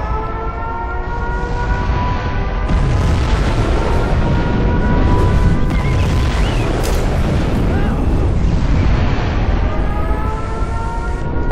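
Nuclear missile launch in Command and Conquer Zero Hour: a loud, dense roaring rumble runs throughout, with siren-like wailing tones rising and falling above it.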